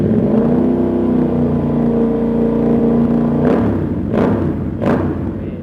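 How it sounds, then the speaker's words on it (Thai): A Yamaha MT-07 motorcycle fitted with an SC Project slip-on exhaust idles with a deep, steady burble, then three sharp throttle blips rise and fall quickly near the end, loud and close. "ตาติดง่ายครับรอบเดินเบานี่กับตาเร่ง"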